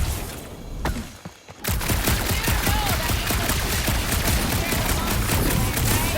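Dense, sustained automatic gunfire and blasts from the video game Marvel's Guardians of the Galaxy, loud and continuous after a brief quieter opening, with a faint voice underneath.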